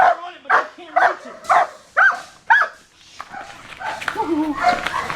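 Dog barking and snapping its jaws in repeated bursts during bite work training as a handler holds the tug just out of reach, several sharp close barks and chomps followed by fainter whining and movement.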